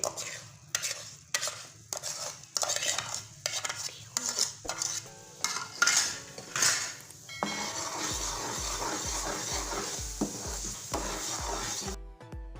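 A spoon repeatedly clinks and scrapes against a pot while sugar and eggs are mixed for besan halwa, a rhythmic series of metallic strokes giving way to a steadier stirring sound.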